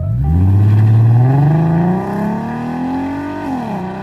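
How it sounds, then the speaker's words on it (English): A 2015 Ford Mustang V6 engine revs hard, its loud, close roar climbing in pitch, then easing and holding at a steady high drone before a final dip, with no voices over it. "2015 Mustang V6. So apparently it's unique because it sounds like a GTR."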